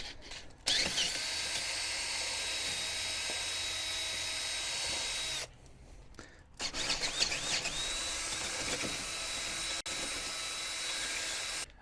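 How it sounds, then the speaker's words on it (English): A power drill with a 3/8 bit bores through factory holes during a brake install on an RSX Type S, a loud steady whine that briefly stops, then resumes with uneven bursts before running steadily again. "we're gonna take a 3/8 drill bit and we're gonna drill through the factory holes"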